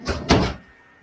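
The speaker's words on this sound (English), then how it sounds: "Open the fourth drawer." A drawer in a home workspace is pulled open with two quick knocking scrapes followed by a brief rattle that fades out.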